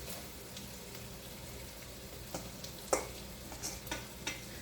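Beef short ribs frying in a big pan, a soft steady sizzle with occasional small pops and clicks, close by and quiet, with no talking.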